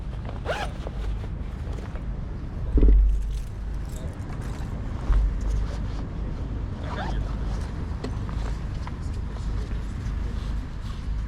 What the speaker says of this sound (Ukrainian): сейчас переложу ключи в рюкзак.